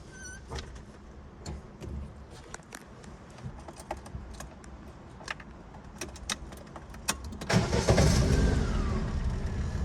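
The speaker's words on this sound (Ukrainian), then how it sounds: "Зараз заведемо автомобіль" A 2005 VAZ Niva with about 210,000 km gives a few light clicks and key jingles, then near the end the engine cranks, catches and roars up loudly before settling into a steady run.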